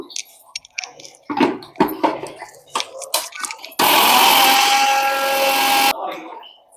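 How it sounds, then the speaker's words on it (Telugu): Clattering, knocking handling sounds and brief talk lead into a loud, steady whir of a mixer grinder jar powdering dried red chilies, running for about two seconds before cutting off, then quiet. "జార్లో వేసి పౌడర్ చేసేసుకుందాం"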